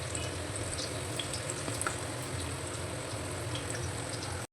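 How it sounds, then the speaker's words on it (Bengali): Chicken pakoras fry in hot oil in a home kitchen, giving a steady, dense sizzle that holds at an even level throughout with no voices. "এভাবে আমি বাকি পকোড়াগুলো ভেজে নেব"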